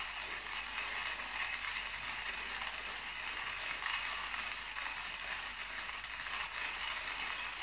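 Manual coffee grinder crushing coffee beans, a continuous close gritty ratcheting crunch with a slow rhythmic rise and fall from the turning handle.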